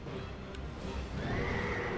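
A horse in the Dark Souls II video game lets out a sharp whinny, close and loud over a steady rumbling game background.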